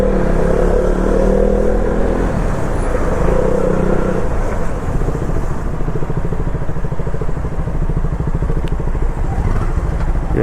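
Heavy road traffic on the ride from Goa to Mumbai, with a steady roar of car and motorcycle engines, revving and rumbling close by, plus clatter and a continuous dense hum throughout.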